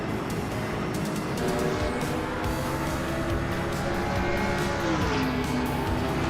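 Race cars in a racing video game drone with a continuous loud engine roar that rises and falls in pitch as they speed along, with no voices.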